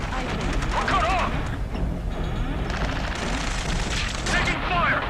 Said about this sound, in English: Taking fire! We're pinned down! Shoot back!